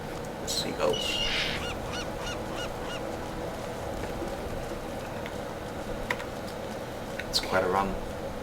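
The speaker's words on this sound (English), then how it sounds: "Seagulls." Seabirds calling in Path of Exile, a few honking, squawking cries scattered near the start and again toward the end, moderately loud over a steady game background with occasional talking.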